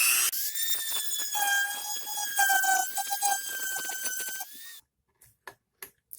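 A diamond burr grinds a sharpener's choil into a knife blade, giving a loud, high-pitched whining screech that holds steady for about four seconds, then cuts off and leaves a few short, sharp scrapes.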